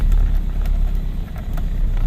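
A Lancia Fulvia engine runs just after starting, a loud close low rumble with uneven pulses and slight dips in level, heard alone without talk.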